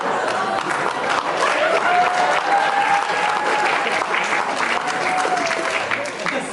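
Sustained audience applause fills the room at a steady, even level for several seconds, a broad wash of many hands clapping together, with faint crowd murmur and a sustained tone beneath.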